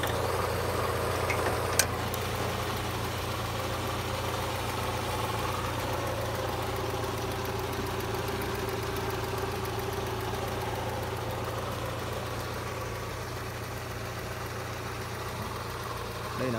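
A 2003 Ford Mondeo with a 2.0 engine idles steadily throughout, a constant low hum with a faint ticking above it and a small click near the start, heard close up with no talk.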